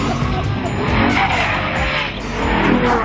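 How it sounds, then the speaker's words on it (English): Ferrari F12 Berlinetta oversteering on warm tyres, its engine roaring loudly under continuous tyre squeal and skidding that swells and fades over a few seconds. "When the tyres are warm and you really want to use the power, it loves to oversteer."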